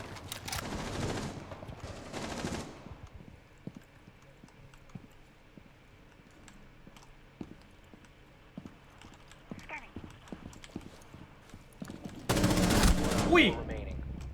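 Bursts of automatic gunfire from the video game Rainbow Six Siege, a loud volley at the start, another around two seconds in and a heavy one near the end, with quieter scattered shots between.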